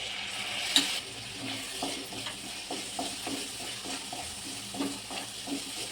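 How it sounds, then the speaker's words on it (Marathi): Hot water is poured into pav bhaji masala frying in a pan, giving a soft, moderately faint sizzle with gentle stirring clinks and scrapes. "थोडंसं गरम पाणी टाकायचं म्हणजे ते मसाले करपणार नाही"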